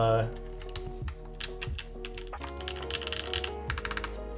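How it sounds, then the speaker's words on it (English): Rapid, uneven clicks of typing on an Aaru Divine TKL custom mechanical keyboard with keycaps fitted, close and crisp over a low steady hum. "the keyboard actually doesn't sound too crazy bad here"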